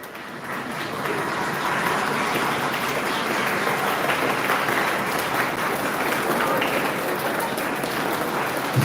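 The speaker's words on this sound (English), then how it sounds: "Big round of applause." An audience at a school event claps steadily, with dense, even applause that swells in after a second and holds at a moderate, slightly distant level for several seconds.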